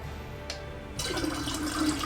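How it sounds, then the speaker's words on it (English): Cold water is poured into hot tea for kombucha, a steady splashing gush that starts abruptly after a second of quiet and continues close up. "So this is where the 8 cups of cold water comes in. We're gonna pour it in and balance out that heat."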